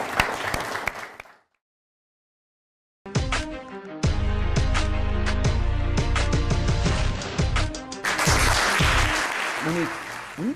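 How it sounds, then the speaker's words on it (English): Audience applause for event sponsors, with an opening burst of clapping, a brief silent gap, then a loud sustained round of crowd applause with cheering swelling toward the end. "Let's give them a round of applause, everybody."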